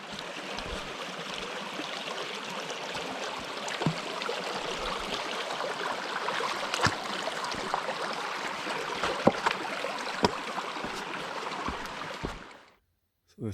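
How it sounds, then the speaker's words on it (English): Water from a stream rushes and trickles steadily at a hiking trail crossing, a soft continuous wash with occasional small splashes or footsteps, then it cuts off near the end. "We got another water crossing."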